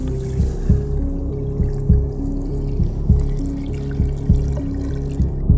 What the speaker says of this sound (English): it's going down to the tank. I can hear it.